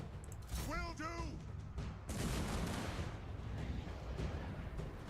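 Organ gun artillery in the Total War: Warhammer video game fires a loud, sustained barrage of booming volleys after a brief stretch of game voices and chirping effects.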